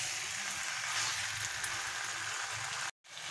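Mutton fat curry sizzles steadily in a pan as meat masala is worked in, a close, even hiss of frying that runs unbroken until a brief silent gap near the end.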